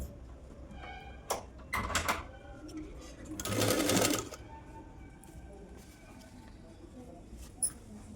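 A sewing machine stitches lining onto a baby frock in short stop-start bursts, with one longer loud run in the middle and a quiet background between stitches.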